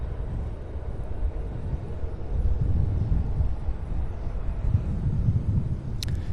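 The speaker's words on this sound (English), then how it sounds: "Delta Flight 1104 arriving from Fort Lauderdale, Florida in a 22-year-old Boeing 737-800" A 22-year-old Boeing 737-800 on Delta Flight 1104 arrives at Cincinnati's CVG airport, a broad low engine rumble that builds and holds steady with wind buffeting the microphone, no voices present.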